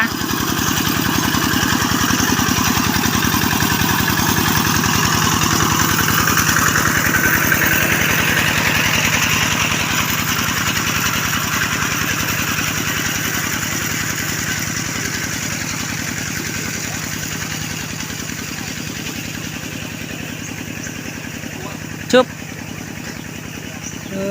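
A walking tractor engine runs steadily while ploughing a rice field, a loud continuous mid-pitched drone that eases slightly over time, with a brief knock near the end.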